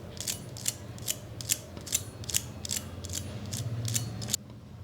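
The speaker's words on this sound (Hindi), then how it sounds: "मैं आपको आवाज़ सुना देती हूँ कि कितने क्रिस्पी करारे बने हैं।" Crispy fried cabbage pakoras being broken apart give a run of about ten sharp, dry crackling crunches in a steady rhythm, close and fairly quiet over a low background rumble.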